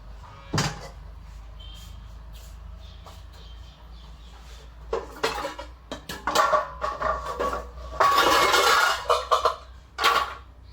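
Dishes, pots and utensils are gathered for washing in a home kitchen: clinking and clattering knocks, a cupboard-like thud early on, then a busy run of rattling metal and crockery, close and moderately loud.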